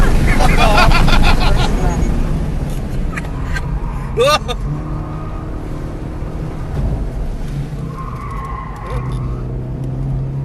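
A car in fifth gear runs counterclockwise around a racetrack on cold tires, its engine droning loudly with a brief tire squeal partway through, while voices talk over the steady road and wind roar.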